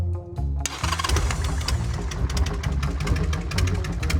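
A motorcycle engine with a fault that makes its voltage drop runs close and loud, with a rough rattling idle and repeated quick revs throughout.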